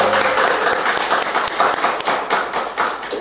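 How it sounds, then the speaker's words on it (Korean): A church congregation at a Sunday worship service gives a steady round of applause, many hands clapping loudly and continuously in a reverberant hall. "우리 다시 한번 우리 권사님께 박수."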